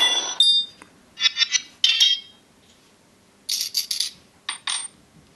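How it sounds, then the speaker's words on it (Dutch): Coins being collected in the iPhone dungeon game Dungeon Raid, heard as bright metallic chimes in short clustered bursts separated by silent gaps. "de muntjes komen hier in een soort schatkamertje"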